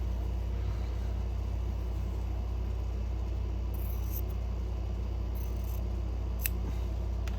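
Scissors cut through English paper piecing templates for a hide and seek quilt, a few faint, crisp snips over a constant low engine-like rumble, with no talk.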